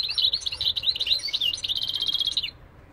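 A squeezed plush toy gives a rapid run of high, bird-like chirps and tweets for about two and a half seconds, fairly close and clear, then stops and leaves only faint room noise.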